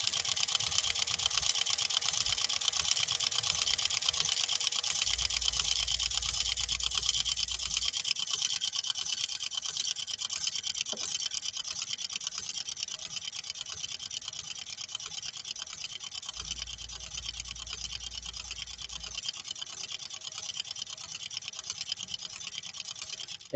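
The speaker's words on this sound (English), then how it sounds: "amazing stitch patterns with a straight stitch only machine" A 1940 Singer 201-2 straight-stitch sewing machine with a pattern attachment runs continuously, a loud steady mechanical whir with a slight rhythmic chatter from start to finish.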